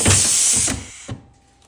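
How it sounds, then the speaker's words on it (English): A tool riveting the tech base of a CAST Freetour 2.0 ski binding onto its fixture, a loud hissing burst followed by a sharp click and a fading release. "Rivet it home."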